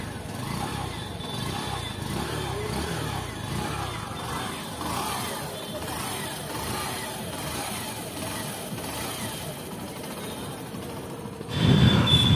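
A Hero Passion Xtec motorcycle riding along a road, its engine giving a steady, continuous drone with road and wind noise throughout, growing louder and rougher in the final second.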